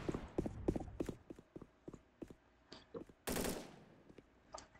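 Pistol gunshots ring out in a Roblox video game, a quick run of sharp cracks and pops at an irregular rhythm, ending with a louder, denser burst near the end.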